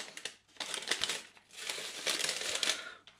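An old paper French fries bag crinkles and rustles close up in two long bursts of crumpling, handled loudly with no talking.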